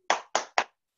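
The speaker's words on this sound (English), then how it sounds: "if I say rhythm clap, I want everybody to give me a rhythm clap" Three crisp, evenly spaced claps from a class doing a rhythm clap, sharp and close together in a quick burst, followed by silence.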